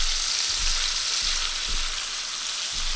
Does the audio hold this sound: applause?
no